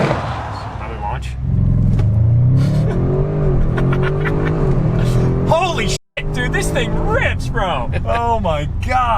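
A US-market Audi RS6 Avant launches hard, its engine revving and pulling up through rising gears, loud and close, with excited voices over it and a brief dropout midway.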